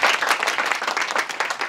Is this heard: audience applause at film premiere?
yes